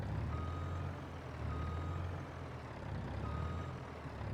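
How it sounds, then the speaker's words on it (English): A dump truck hauling gravel backs up outdoors, its reversing alarm beeping in steady repeated tones over a loud, constant diesel engine rumble, with no one talking. "So I'm going to dump all this gravel here"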